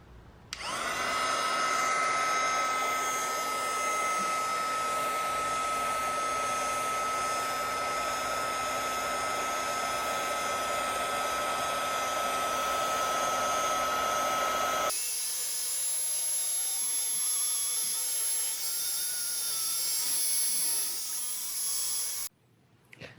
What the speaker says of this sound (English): take a heat gun and warm up the adhesive on the emblem